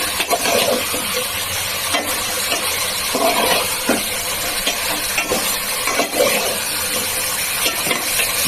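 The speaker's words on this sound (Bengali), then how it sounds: "এবার একটু সুন্দর করে কষিয়ে নিই।" Chicken curry sautés in a pan, a steady, loud sizzle and hiss filling the whole stretch, with soft scraping stirs and occasional knocks and no voices.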